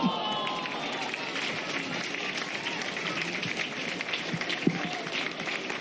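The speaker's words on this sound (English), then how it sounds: "Applause for the movement." A football stadium crowd applauds during a women's match between Brisbane Roar and Melbourne Victory, a dense, even wash of clapping and crowd noise that holds steady throughout the clip.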